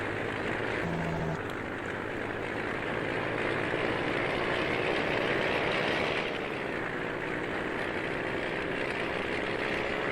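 A semi truck engine in a farming simulation game runs with a steady, loud drone that holds unchanged for about ten seconds, with no talk over it.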